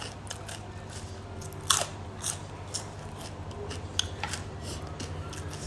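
Crispy pork rinds eaten with som tam, khanom jeen rice noodles and fresh vegetables give close, sharp crunches as they are bitten and chewed. Several distinct bites sound over a steady low hum.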